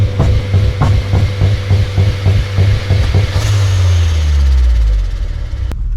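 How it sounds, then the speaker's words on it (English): A tuned car with two-step launch control revs hard in a driveway: a loud, close engine rattles in rapid popping pulses, then holds a droning rev that winds down near the end. "Try and two-step in the driveway."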